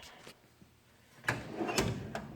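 Metal tool chest drawer in a home garage sliding open and shut, a couple of rattling clunks and slides close by, following a few faint knocks.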